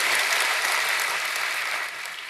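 A church congregation applauds during a Sunday service in Indonesia, a dense, loud burst of clapping that fades slightly toward the end.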